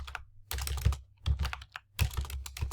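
Fingers type a folder name on a computer keyboard in three quick bursts of close, crisp key clacks separated by short pauses.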